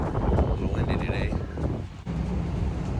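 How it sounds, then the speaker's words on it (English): Steady outdoor wind buffeting the microphone, a continuous low rumble with gusty rushes throughout. "A little windy today."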